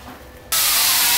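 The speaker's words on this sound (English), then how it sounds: "This is spray E-coat." A steady, loud hiss of an aerosol can spraying e-coat inside a 1969 Ford Torino Cobra Jet quarter panel starts abruptly after a quiet moment and continues without a break.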